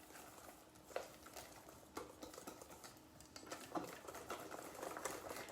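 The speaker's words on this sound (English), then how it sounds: "I'm gonna give that a good whisk" Whisk stirring pumpkin bread batter in a bowl, a soft, close, continuous wet patter with light scraping taps against the bowl.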